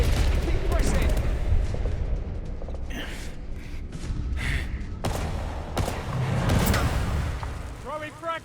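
Gunfire and explosive blasts from the video game 007 First Light crackle and boom in bursts, with shouting voices heard over the combat.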